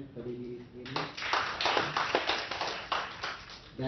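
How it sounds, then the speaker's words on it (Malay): University students at Universiti Sains Malaysia clap for themselves after a brief lull, a burst of crowd clapping rising and continuing in uneven waves, close and moderately loud, with voices mixed in. "Mungkin boleh beri tepukan kepada diri sendiri."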